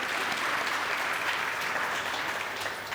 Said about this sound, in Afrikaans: Kom ons klap net vir almal hande wat verlede week gehelp het.